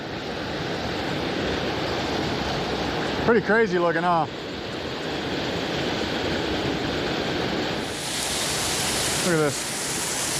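A strong mountain trout creek rushes and roars steadily close by around a big rock in old forest, the broadband torrent continuous throughout while people talk briefly over it.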